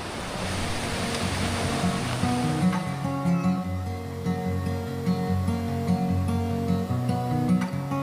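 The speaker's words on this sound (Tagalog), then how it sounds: "Tila kabilaan po ang mga falls dito," Rushing waterfalls on both sides of a trail give a loud, steady wash of broadband roar for the first few seconds, then music plays over it and the water fades into the background.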